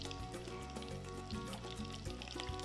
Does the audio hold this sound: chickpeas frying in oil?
yes